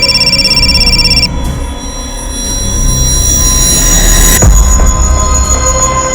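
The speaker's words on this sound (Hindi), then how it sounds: "किसका फोन है? गरुड़ा का। काट दो।" A phone rings with a rapid electronic trill for just over a second, then cuts off, followed by a rumbling, screeching train that grows louder.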